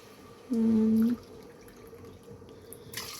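Water poured into a rice cooker while making millet pongal: one short, loud pour lasting about half a second, with a hollow ringing tone, then a quiet room.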